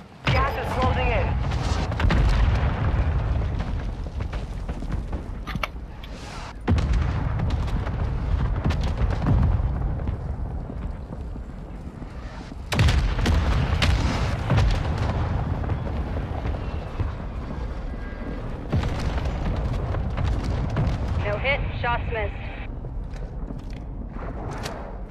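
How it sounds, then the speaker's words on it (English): Mortar strike explosions in Call of Duty Warzone 2 rumble through the match as a series of heavy booms spread across the stretch, mixed with footsteps, gunfire and a talking voice. "Mortar strike inbound now."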